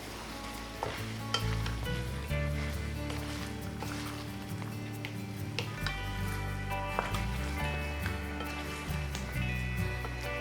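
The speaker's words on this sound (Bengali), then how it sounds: "2 মিনিট মতো ভালো করে কষে নিতে হবে।" Chicken and spices, including turmeric and chilli powder, are stirred and sautéed in a pan for a chicken curry, giving a soft continuous sizzle with scraping strokes and faint background music.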